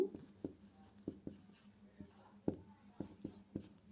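Pen or chalk strokes tap and scratch in short, irregular bursts while a geometry lesson on circle chords is written out, close and fairly quiet over a faint low hum.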